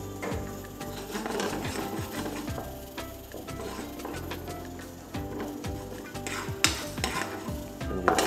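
Onion sizzles and fries in a pan with occasional stirring, a steady close crackle with soft scraping and clinks of a utensil against the pan.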